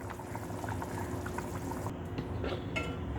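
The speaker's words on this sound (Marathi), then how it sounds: "एक अर्धा मिनटं तुम्ही उकळी फुटू द्या" A pot of misal usal curry bubbles steadily at a boil, a soft continuous simmering hiss with small pops and a faint clink of utensil near the end, no voices.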